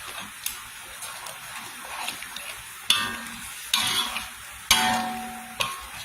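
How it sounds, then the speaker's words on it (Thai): Coconut milk simmers in a pot while a utensil stirs it, producing soft bubbling and a steady hiss broken by several sharp scraping knocks against the pot at irregular intervals. "เราจะเคี่ยวกะทิให้แตก"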